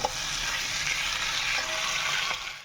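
Potatoes and prawns sizzle and crackle steadily in a hot pan while being stir-fried, a close, continuous frying hiss with faint stirring scrapes, no voices.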